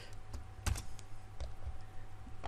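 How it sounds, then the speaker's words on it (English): Computer keyboard typing with a two-finger touch-typing style: a few scattered, fairly faint keystroke thumps and clicks, with one heavier tap standing out, over a quiet room hum. "I apologize for my keyboard thumping."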